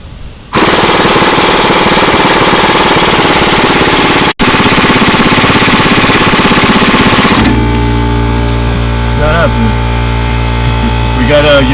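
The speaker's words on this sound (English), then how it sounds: "impact gun doesn't work" Impact gun hammering on a front strut bolt of a third-generation Camaro/Firebird, a loud, sustained rapid rattle with a brief break, then cutting off into a steady hum.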